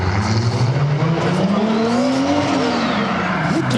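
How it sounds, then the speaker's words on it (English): Turbocharged Honda Civic EK sedan engine, a D16 build, revving loud and close with a rising, sweeping pitch and steady roar throughout, no one speaking. "Man, that turbo sound good."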